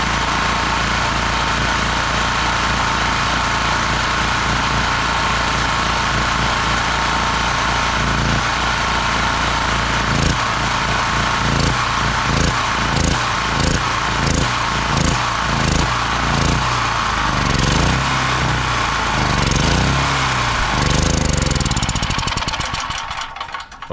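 A Cabela's Outdoorsman generator engine runs loud and steady at first, then begins to sputter and surge in uneven pulses, struggling harder as its fuel runs out before cutting off at the end.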